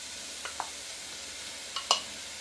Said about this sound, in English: add the bacon in here, and I want to get this started to sizzle off